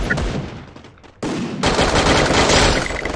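Shotgun blasts and rapid gunfire in a Garena Free Fire match ring out loud and close, a burst of shots, a short lull, then a sharp dense volley that keeps going to the end.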